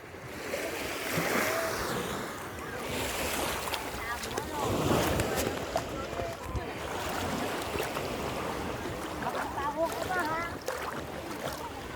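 Sea waves washing and breaking along a shore where people are swimming, amid gusty wind buffeting the microphone, with scattered voices of people nearby.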